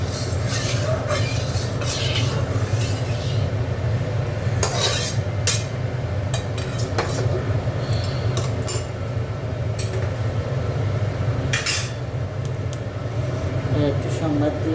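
Water swirled around inside a metal kadai while cooking matar dal, a steady low sloshing and scraping with occasional clinks of metal, continuous and close.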